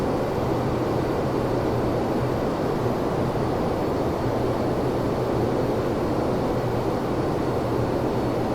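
Inside a United Airlines Boeing 757 cockpit in the Prepar3D v5 flight simulator, the speed brake extends under a loud, steady broadband roar of airflow and engines, with a low droning hum underneath.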